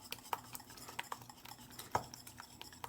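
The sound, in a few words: whisking warm cream into eggs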